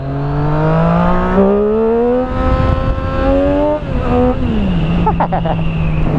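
A car drives past on a road in Brittany, its engine loud and close as the pitch climbs, then drops and steadies while it moves away.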